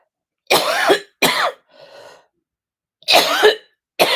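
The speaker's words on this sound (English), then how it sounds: "Thought she was going to cough up a fur ball." A cat coughing as if to bring up a fur ball: three separate harsh, hacking bursts, with a fainter wheezy rasp in between, close and fairly loud, with no talking.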